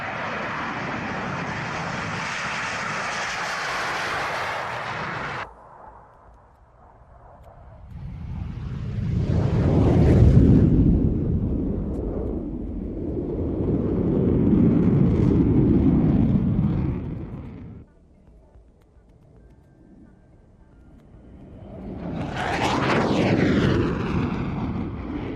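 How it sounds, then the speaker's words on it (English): FA-18 Hornet fighter jet of Fighter Attack Squadron 83 flying past, repeated swelling jet roars that rise and fade over several passes, with a sweeping whine near the end, loud and alone. "flying this FA-18 Hornet of Fighter Attack Squadron 83"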